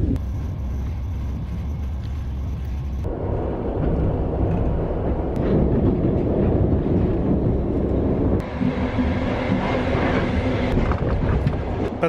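A third-class passenger train rolls from Ulan-Ude toward Ulan-Bator with a loud, continuous rumble and rattle inside the carriage, changing in tone partway through, with no voices.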